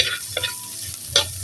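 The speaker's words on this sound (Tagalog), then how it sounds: "next, bawang. So, gisa-gisa lang." Garlic sizzles steadily in a hot pan as the base for corned beef with potatoes, with a couple of brief scraping stirs close by and no voice.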